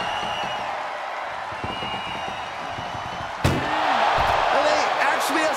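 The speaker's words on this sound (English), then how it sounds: "Doing their best just to shut that first door." A sharp slam hits partway through during a wrestling ambulance match, as wrestlers force the ambulance's door shut, followed by louder crowd noise and commentary continuing underneath.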